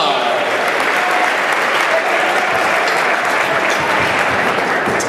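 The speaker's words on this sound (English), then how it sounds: "Let's give her a nice round of applause" A crowd at a high school girls' basketball event applauds in a dense, continuous wash of clapping, loud and steady throughout the whole stretch, with no talking heard.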